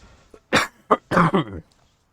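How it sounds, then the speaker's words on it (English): A few harsh, throaty coughs in quick succession, close and loud, followed by a short pause of near silence. "Gotta stop to cough."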